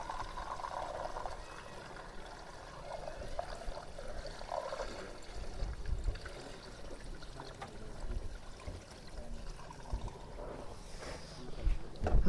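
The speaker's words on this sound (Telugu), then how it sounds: "మొత్తానికి అయితే డీజిల్ పోసినాం" Diesel from a heavy 60-litre can is poured into the fuel tank of a village JCB, a continuous gurgling trickle and splash that surges and fades, with some handling clunks near the end.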